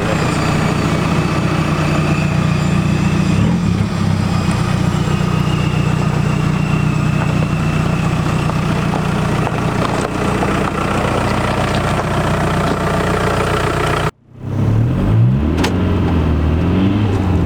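A VW TDI diesel engine idles with a steady low rumble for a long stretch, then briefly cuts out before rising again in a short rev.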